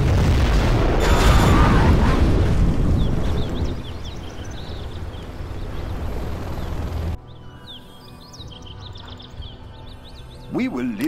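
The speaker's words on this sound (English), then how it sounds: "We have launched our nuclear missile." A nuclear missile strike explosion in the strategy game C&C Generals Zero Hour: a loud, rumbling boom that swells and slowly fades, leaving quieter scattered game effects and a brief burst near the end.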